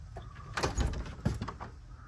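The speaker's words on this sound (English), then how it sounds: "All right, let's open the door." A cellar door opening into a garage where a 1972 VW Super Beetle sits in epoxy primer, giving a couple of rattling, scraping thuds and a sliding rumble close by, with no voices.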